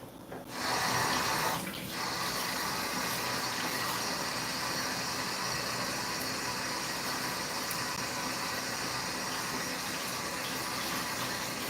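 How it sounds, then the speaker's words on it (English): Store-brand sausages are rinsed under running tap water, a steady close gush and splash that starts with a brief louder burst and runs evenly to the end. "Let me rinse these real quick before I put them in my pot."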